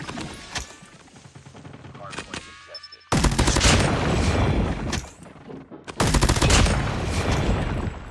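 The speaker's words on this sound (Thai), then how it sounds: "โอ้ยโดนข้างบนยิง" Gunfire in Call of Duty Mobile during a live tournament match, heard as loud automatic bursts and rapid volleys that start, pause and resume, mixed with excited talk over the action.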